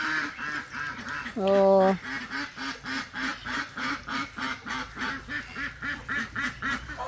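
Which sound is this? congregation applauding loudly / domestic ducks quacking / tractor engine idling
domestic ducks quacking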